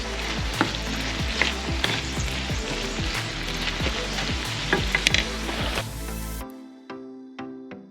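Sausage browns in a frying pan with a steady, busy sizzle and scattered sharp pops, close and loud, then cuts to a quieter stretch of sparse spatters and faint clicks near the end.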